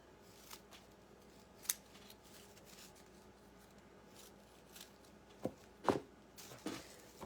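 Scissors snipping a raffia bow, a few faint isolated cuts spaced apart with a quick cluster near the end, soft and close.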